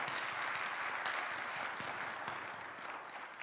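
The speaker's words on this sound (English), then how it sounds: "Brief applause for your school, real quick." A crowd at a US Senate candidates' debate in Ohio applauds steadily, a dense wash of many hands clapping at once that holds for a few seconds before tapering slightly.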